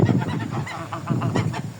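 Several geese, including young Mammoth-breed geese, honk repeatedly in a loud, nasal, overlapping chorus, close to the listener.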